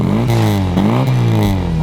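Close, loud MGB sports car engine, 1.8-litre with twin SU carburettors, revving, its throaty note rising and falling through a couple of throttle blips with a deep rumbling idle beneath.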